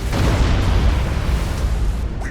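A heavy, rumbling explosion roars up close as a transport spaceship is destroyed in Battlefleet Gothic Armada 2, a dense low blast that surges and crackles without letting up.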